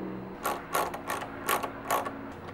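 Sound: tightening down train horn diaphragm parts

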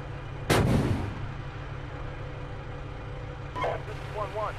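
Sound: gunfire in a military video game

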